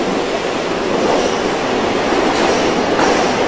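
A subway train running, with a steady, loud broadband rumble throughout and no clear clicks or voices.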